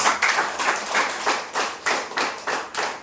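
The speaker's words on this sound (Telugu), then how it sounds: "ఒక్కసారి క్లాప్" An audience at a Vestige business meeting in Ibrahimpatnam claps together in a steady rhythmic pattern, about eight even beats spread across three seconds, close and moderately loud with no talking over it.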